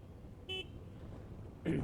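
A short, bright electric horn beep from a Hero Xtreme 125R motorcycle, then a brief rougher burst with a voice, over low vehicle background noise.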